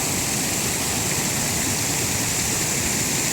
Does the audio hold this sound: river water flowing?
yes